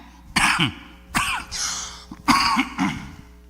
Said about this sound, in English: Excuse me with a little cough.